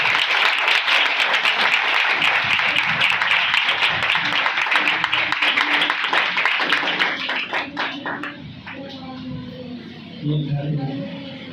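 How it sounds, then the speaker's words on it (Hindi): Congregation applauding in church, loud dense clapping from many people for about eight seconds before it thins into scattered claps and fades, with voices and a speaker heard as it dies down. "आपकी जोरदार तालियों में पास्टर शाहिद"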